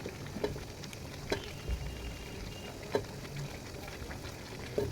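Olives simmering in a pot for pickle make a quiet bubbling with soft irregular ticks and pops, faint and steady throughout with no other sounds over it.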